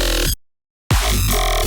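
Gritty growling saw synth bass from the Bass Forge preset pack, two short loud bursts separated by a brief silence, dense and buzzy with a strong low end.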